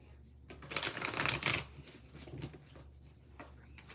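Tarot cards being shuffled by hand during a live reading, a soft quiet riffle building to a brisk burst of papery flicks, then tapering into a few lighter shuffles and taps.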